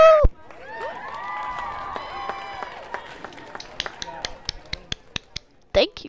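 Short sharp claps from players in the Roblox game Natural Disasters, a brisk run of separate slaps with a few louder hits near the end. They sit over a sustained tonal game sound and a talking voice.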